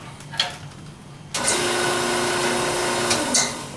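Wood lathe spinning up while turning a Soren Berger style scoop, a sudden steady whirring hum after light handling knocks, close and fairly quiet.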